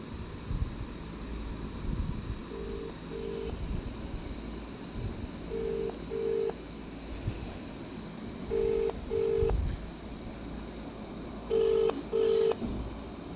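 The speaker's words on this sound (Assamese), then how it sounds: "মই এতিয়া ফোন এটা কৰি চাওঁ কি কয়" Phone call being placed, with a ringing tone that repeats as four evenly spaced double bursts over a low, windy hiss of background noise.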